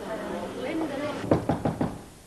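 Four sharp knocks rap on a door in quick succession, close and distinct, following a stretch of indistinct talk.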